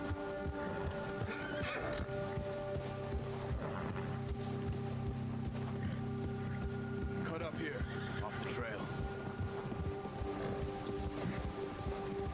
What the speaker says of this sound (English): you have to calm the horse.